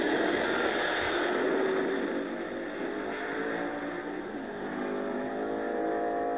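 No-prep drag race cars, a Firebird, a Camaro and a Mustang, roar at full throttle in a sustained, distant-sounding engine drone with rising and falling pitch.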